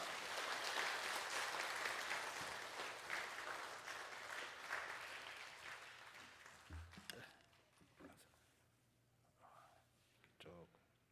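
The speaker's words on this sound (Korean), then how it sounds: "우리 박수로 우리 선교사님 환영하겠습니다" Church congregation applauding to welcome a missionary to the pulpit at a Sunday worship service, a broad wash of clapping that is loudest at first and thins out toward the end, with a few scattered claps and murmurs.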